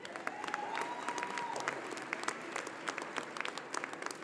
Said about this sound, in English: And so you can clap for that